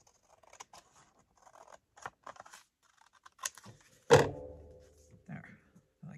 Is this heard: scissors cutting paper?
yes